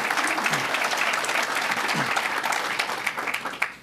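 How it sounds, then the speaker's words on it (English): Steady audience applause at a political speech, a dense even patter of many hands at moderate distance, sustained throughout with no voices over it. "You can clap for that."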